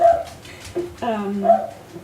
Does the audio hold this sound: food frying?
no